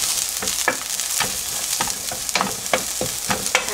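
Finely chopped green onion fries in a spoonful of oil over high heat, a close, continuous crackling sizzle broken by repeated sharp spatula taps and stirring scrapes, with no talking.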